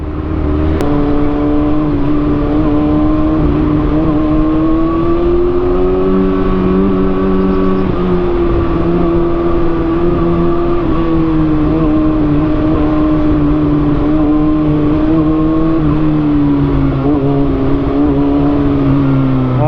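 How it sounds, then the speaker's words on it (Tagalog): Car traffic on a rainy road heard from inside a vehicle: a loud, constant engine drone with a steady tonal hum that slowly rises and falls, over continuous road and rain noise, with no talking. "medyo traffic kasi umuulan no"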